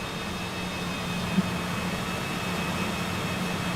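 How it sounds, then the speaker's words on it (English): The right jet engine of a Cessna Citation CJ4 runs in Microsoft Flight Simulator, giving a steady, even whine and roar with faint high tones throughout and no talk. "Definitely started the right engine."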